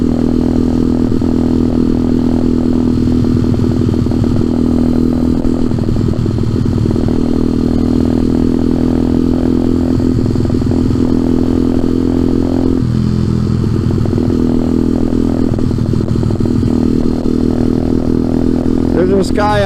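A motorcycle being ridden gives a loud, continuous engine drone with rushing wind and small rattles, holding nearly steady with a brief dip in pitch partway through.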